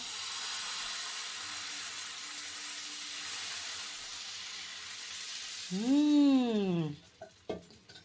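Tomato dosa batter frying on a hot pan, a steady close sizzle throughout, broken near the end by a brief rising and falling tonal squeal and a few clattery knocks.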